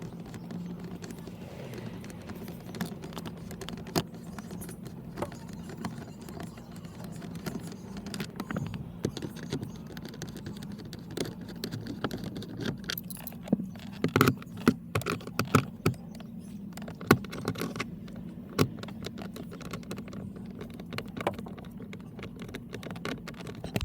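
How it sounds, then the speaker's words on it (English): Torx screws being backed out with a T20 Torx key on a 2006 Mercedes E-Class steering lock cover, faint irregular metallic clicks and small taps over a low steady hum. "we're using a T20 Torx key to remove the screws out"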